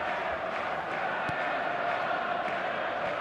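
Steady stadium crowd roar from an eFootball match on a clear evening, a dense continuous wash of massed voices held at one level throughout, with no distinct cheers standing out.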